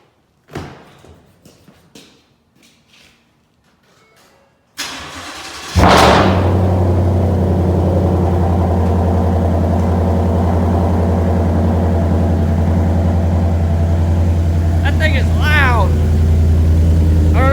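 A lifted Ford F-150 on a 6-inch lift cranks and fires up, then settles into a loud, steady, raspy idle with a deep rumble, heard close by after some brief handling noises and faint talk.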